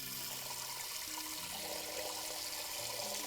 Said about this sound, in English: So, hot water about halfway up here.